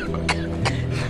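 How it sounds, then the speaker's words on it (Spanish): Two short, harsh coughs close to the microphone, one quickly after the other, over a low background hum. "Ay, esa tos."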